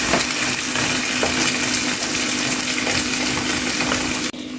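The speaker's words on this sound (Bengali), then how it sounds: "ডিমটা দেওয়ার পরে নেড়ে ভেজে নেব।" Three eggs frying and being stirred with Maggi noodle ingredients in a hot pan, a steady loud sizzle with soft stirring scrapes running throughout, cutting off abruptly at the end.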